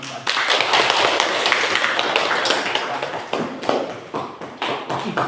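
Applause from a classroom group of listeners after a student group's presentation, steady dense clapping throughout, fairly close, with a few voices faintly mixed in.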